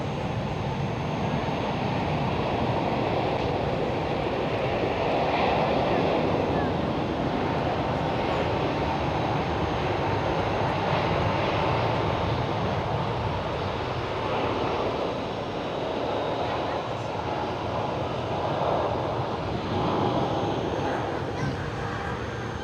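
An airliner at takeoff thrust at Schiphol Amsterdam gives a steady, loud, broad engine roar that holds throughout, with voices occasionally audible beneath it.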